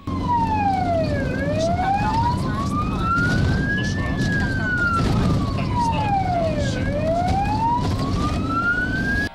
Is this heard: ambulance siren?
yes